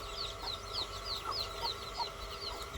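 Small chicks peeping in rapid high chirps alongside lower clucks from chickens inside a poultry shed, a continuous busy chorus at moderate distance with no talking.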